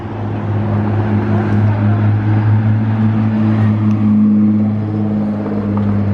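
A modified Nissan GT-R engine rumbles with a low, steady drone that swells slightly as it approaches, amid outdoor background noise.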